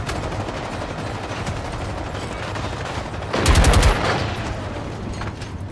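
Machine guns firing in the video game Generation Zero, a short loud burst of rapid shots about midway, standing out over a steady background hum.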